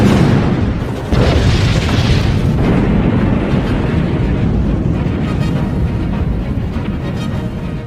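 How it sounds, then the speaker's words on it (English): Airship guns firing and shells exploding in an anime sky battle, a dense continuous roar of booming blasts with a sharp burst near the start, loud and sustained throughout. "All guns, fire at will."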